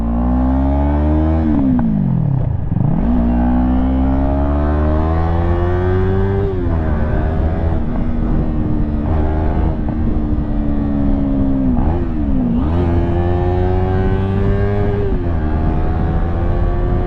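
A 2016 Yamaha YZF-R3 motorcycle being ridden, its loud engine droning continuously up close, with pitch climbing under acceleration and briefly dropping at gear changes.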